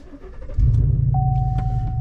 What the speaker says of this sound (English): Truck is started, let it do its thing.